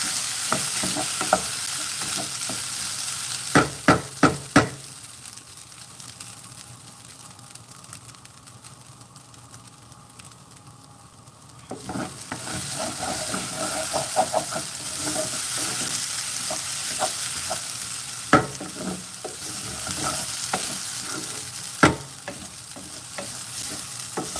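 Rice for Spanish rice stirred and fried in a pan on a stovetop, a steady sizzle broken by sharp spoon scrapes and clacks against the pan, close and moderately loud, quieting briefly midway before the frying swells again.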